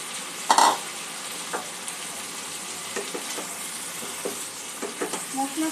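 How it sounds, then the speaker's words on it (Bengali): Jackfruit being mixed into a spice paste frying with yogurt in a pan, heard as a steady sizzle with occasional scrapes and knocks of the spoon. Stirring sounds up close, intermittent and not loud. "মশলার সঙ্গে এঁচোড়টা ভালো করে মিক্স করে নেব।"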